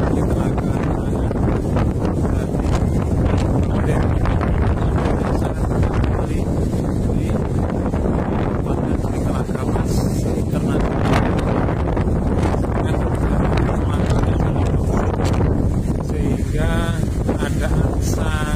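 Strong stormy wind sweeping across Lake Sarangan, a loud continuous roar buffeting the microphone for the whole stretch with no letup.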